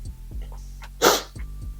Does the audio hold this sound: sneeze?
yes